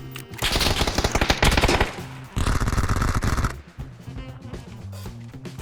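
Rapid automatic gunfire in the shooter game PUBG comes in two loud, dense bursts, followed by a few scattered single shots and quieter game sounds.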